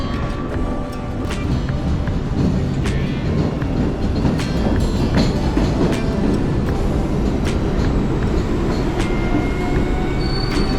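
Steady loud rumble and rhythmic wheel clatter from inside a moving MBTA subway train near Boston, with occasional metallic squeals and rattles over a continuous roar, and no talking.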